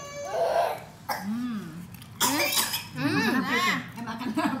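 A child coughs in several harsh, close bursts, some throaty and strained, with voices and possible laughter mixed in between the coughs.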